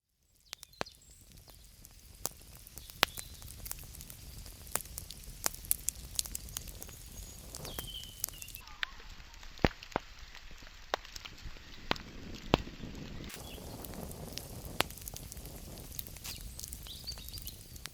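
A wood fire heats a self-built brick wood-fired pizza oven, giving sparse, irregular crackles and sharp pops over a low, steady rushing bed, fairly quiet and continuous throughout with no talking.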